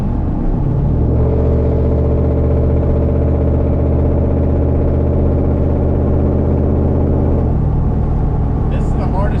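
Loud, choppy idle from a truck with a 4.7 engine, a deep lumpy rumble holding steady for several seconds close to the microphone before dropping off near the end.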